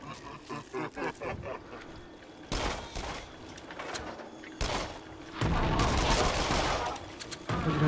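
Gunfire from the horror shooting game Until Dawn: Rush of Blood, a fast run of sharp shots in bursts, with dense rapid volleys and loud blasts building toward the end.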